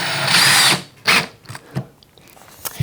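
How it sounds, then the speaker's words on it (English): A drill driver with a square drive bit drives a pocket hole screw into wood: a loud, close whirring burst, then a few shorter stop-start pulses as the screw seats. "now I can simply use a pocket hole screw and drive it in"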